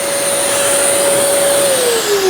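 A Festool CT 26 dust extractor runs loudly and steadily with a whining motor tone that dips slightly in pitch near the end, with no talking.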